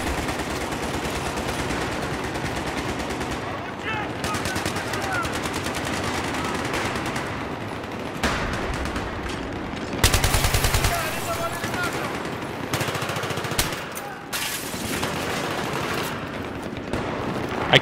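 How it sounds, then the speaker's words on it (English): Rapid automatic rifle fire from SCAR-L video game gameplay, repeated bursts with short pauses and a loud, dense texture, while a voice talks intermittently underneath. "There's two guys shooting at you."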